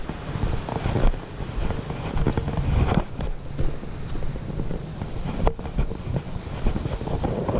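Strong wind on a mountain trail on the way to Mt. Mago roars and buffets the microphone in a continuous loud rush with gusty swells, no voices over it.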